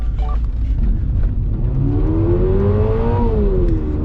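A 2022 Subaru BRZ engine revs loudly, its pitch sweeping upward and then falling, over a steady low rumble of exhaust.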